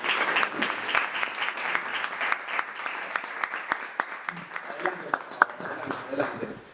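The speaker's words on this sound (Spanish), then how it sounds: "Un fuerte aplauso, por favor" A small podcast audience at an Ontinyent City Council recording applauds with crisp, fairly close clapping that starts strong and thins gradually, with individual claps standing out toward the end.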